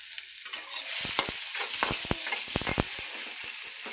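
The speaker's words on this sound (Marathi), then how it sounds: "ते चांगलं तेलात फ्राय द्यायचं बघा." Onion and tomato fry in a little oil, giving a steady close sizzle broken by several sharp scraping stirs of a spoon against the pan.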